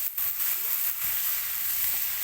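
Jackfruit stir-fried in a pan, a close, steady sizzle with a few quick scraping stirs near the start and around the one-second mark, no talking.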